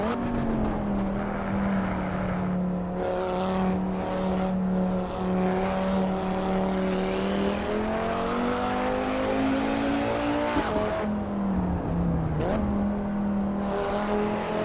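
An Audi race car engine in the racing game Assetto Corsa Evo holds a steady, droning mid-pitch note. It rises and dips slightly through gear changes, loud and continuous with no talking.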